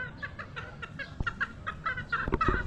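Hens clucking and cackling nearby, a hen about to lay an egg, with repeated short rhythmic calls rising in intensity toward the end.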